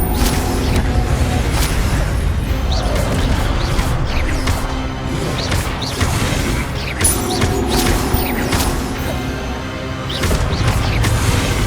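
Incendio fire spell cast in Hogwarts Legacy amid loud, dense game combat: repeated bursts, whooshes and crashes layered over a constant roar.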